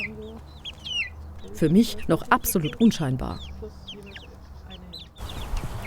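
Young Augsburger chicken chicks, hatched five weeks earlier, cluck and peep close by with overlapping bursts and a steady rhythm, while a person speaks over them at moderate loudness.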